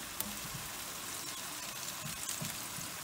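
Chopped onion sizzling in a pan with bay leaves and garlic, a steady close crackle and hiss of frying with small pops scattered throughout, no voices over it.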